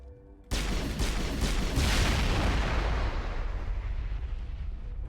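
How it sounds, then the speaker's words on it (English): A heavy blast of gunfire in the video game Mass Effect starts abruptly after a short quiet stretch, followed by a dense, booming rumble with rapid repeated shots that slowly fades. "I love when NPCs are oblivious to gunfire."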